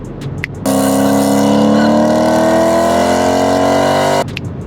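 A Corvette engine revving hard while its clutch is burnt off, one loud sustained steady roar lasting several seconds, cut off sharply at both ends.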